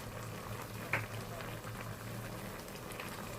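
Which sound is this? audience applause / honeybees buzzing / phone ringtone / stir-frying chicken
stir-frying chicken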